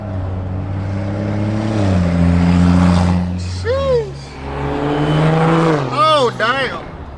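Street race cars, including a Honda Accord, accelerate hard at a California race: loud engines rise in pitch through rapid gear changes and sweep past up close, with excited voices shouting over them.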